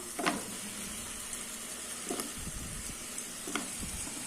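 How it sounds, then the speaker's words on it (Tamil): Drumstick and potato pieces sautéing in a pan for a dry fish curry, a continuous gentle sizzle with three sharp spoon scrapes spaced a second or two apart. "இப்போ இது ஒரு 2 நிமிஷம் நல்லா வதக்கி விட்டுக்கலாம்."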